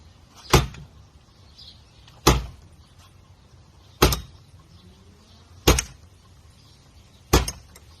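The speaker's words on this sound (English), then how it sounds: "I'm going to go ahead and bash it 5 times on the bezel against this door" A Weltool W65B weapon light is bashed bezel-first against a door five times, each a loud, sharp knock roughly every 1.7 seconds with quiet between.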